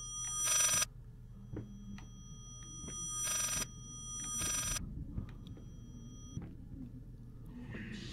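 An old telephone rings in the horror video game Layers of Fear, several loud bursts of bright bell ringing separated by pauses, over a low constant rumble and faint creaks.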